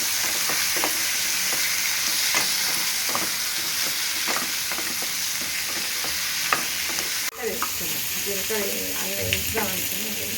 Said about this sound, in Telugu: 2 పచ్చిమిరపకాయలు కొంచెం నూనెలో మగ్గనియాలి అంతే.